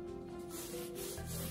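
Hands rubbing salt and black pepper onto a whole salmon, a short close dry scrubbing and rubbing with no talk.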